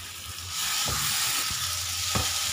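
Chicken hearts deep-fry in a pan with a loud, steady sizzle that sounds close. A few short scraping stirs cut through it.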